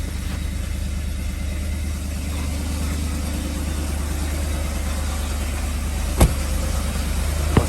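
A BMW M62B35 V8 engine idling with a VANOS knock: a steady, close engine drone with a faint, rapid rhythmic ticking woven through it and a couple of brief sharp clicks near the end.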